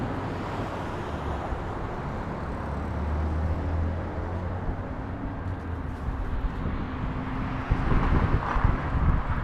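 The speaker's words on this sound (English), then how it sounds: "The breeze actually picked up quite a bit from what it was earlier." Outdoor breeze on the Las Vegas Strip at night near Flamingo and Las Vegas Boulevard, a steady roar of wind buffeting the microphone mixed with distant traffic rumble, growing gustier toward the end.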